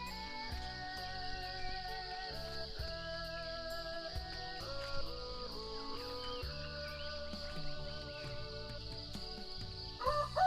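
Several roosters crow back and forth at a distance in a hill-tribe mountain village, long drawn-out calls overlapping in a busy outdoor morning scene with steady background hum.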